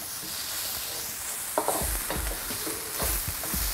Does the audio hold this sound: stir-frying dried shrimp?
yes